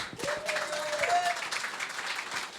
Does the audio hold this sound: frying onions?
no